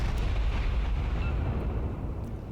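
Naval gun and shell impact rumble in World of Warships, a deep continuous roaring boom that slowly fades over a couple of seconds, fairly distant and muffled, with no voices.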